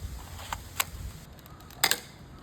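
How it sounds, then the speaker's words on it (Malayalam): Magazine snapping into a toy Glock pistol: a few sharp plastic clicks close by, with a louder double clack near the end and no talking. "നമുക്ക് മാഗസിൻ ഇട്ട് കൊടുക്കുക."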